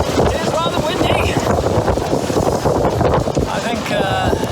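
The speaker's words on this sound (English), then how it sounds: "it is rather windy" Strong wind buffets the microphone aboard a small sailboat, a loud continuous roar with gusty rumble and faint creaks, with someone speaking at times over it.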